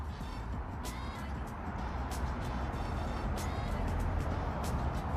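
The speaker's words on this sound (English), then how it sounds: "You have the traffic noise" Steady road traffic rumbles near a backyard pool in Peccole Ranch, Las Vegas, cars passing in a continuous wash of engine and tyre noise, with no one talking.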